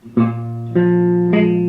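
Three guitar chords strummed in succession, a badly barred chord letting the third string buzz, giving the ringing tone a slightly rough, buzzy edge.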